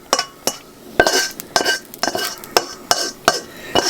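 Ghormeh sabzi, a Persian herb stew, being stirred in a cooking pot with a utensil, giving a run of sharp, regular metallic clinks and scrapes against the pot, close and clear with no talk.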